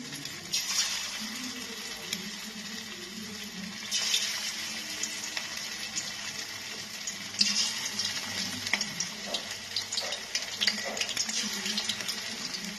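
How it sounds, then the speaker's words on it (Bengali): Mutton fat fritters frying in hot oil over a lowered gas flame, a steady soft hiss and crackle running throughout at moderate level with a few sharper spits. "এর মধ্যে একটা একটা করে বড়া আমি ছেড়ে দেবো ছোট ছোট করেই ভাজবো বড়াগুলো"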